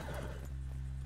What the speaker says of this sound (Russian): садись на лошадь